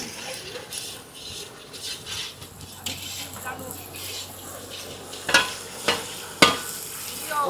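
Spice paste of garlic and ginger frying in oil for dal, stirred steadily with a spoon in a pot, a soft continuous sizzle with sharper clinks of utensil against metal near the end, background voices faintly present.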